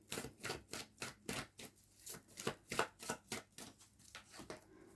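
Tarot cards shuffled by hand in a steady rhythm of quick riffling bursts, about a dozen close, crisp flutters with no talking.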